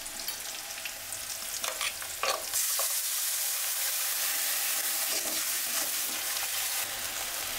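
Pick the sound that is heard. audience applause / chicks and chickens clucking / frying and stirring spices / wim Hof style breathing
frying and stirring spices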